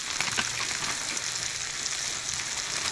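A low-carb cheese pancake frying in a pan, giving a steady, close crackling sizzle with dense popping throughout and no voices.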